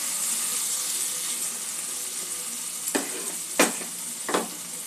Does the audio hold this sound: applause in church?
no